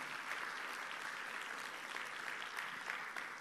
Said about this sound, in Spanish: Le ponemos un aplauso de paso ya que levantó la mano, se animó.